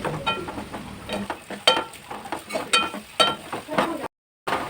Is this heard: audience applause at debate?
no